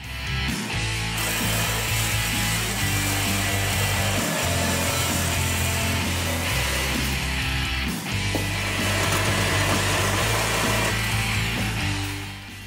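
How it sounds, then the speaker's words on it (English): A power tool cuts through a stainless steel tailpipe just behind the muffler on a 1999 Mustang, a loud continuous grinding whine with a few brief drops and changes in pitch, close up. "The easiest place to cut the tailpipe is going to be right here behind the muffler."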